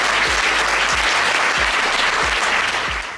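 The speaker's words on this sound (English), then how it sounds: "give a warm round of applause to our guests" A warm round of applause for guests fills the space, with dense, steady clapping from an audience that holds loud throughout and begins to thin only at the very end.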